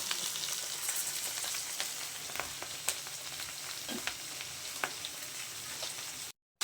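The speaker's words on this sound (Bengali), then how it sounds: "এই যে রান্না করবো শালগম। সরিষার তেল দিয়ে রান্না করি" Turnip cooking in mustard oil gives a steady, close sizzle and crackle, with occasional light stirring ticks and no talk, briefly cutting out near the end.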